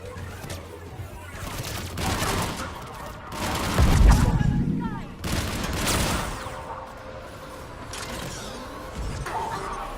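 Enemy gunfire in the video game Mass Effect 3 crackles through a noisy battle mix, irregular bursts and impacts rising and falling over ten seconds, with some voice and mechanical clatter mixed in.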